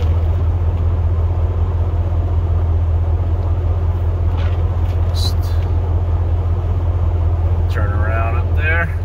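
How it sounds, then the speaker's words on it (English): Cars passing along a snowy road during a blizzard, a steady low engine and tire rumble continuing throughout, with faint voices briefly audible near the end. "Traffic go by."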